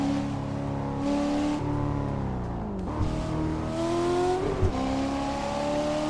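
A racing car engine in the simulator Assetto Corsa revs and shifts steadily, pitch climbing and dropping through gear changes, loud and continuous with no talk over it.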